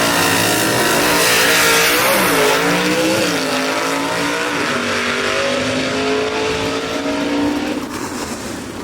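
Vintage gasser drag race cars, including a step-side Chevy, race at full throttle nearby, their loud engines howling and climbing through gear changes, then fading slightly as they pull away.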